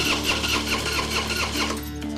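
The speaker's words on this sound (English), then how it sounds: "It's just spinning over. It's not getting any fire." A Harley-Davidson Fat Boy engine being cranked without catching after rust and debris were cleaned from its fuel tank, a steady loud starter churn with rhythmic pulsing that never fires, close and alone.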